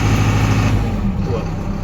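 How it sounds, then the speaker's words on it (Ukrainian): A New Holland tractor engine runs at normal revs with the cab closed, giving a loud, steady low diesel drone throughout. "ми от на обичних оборотах працює мотор"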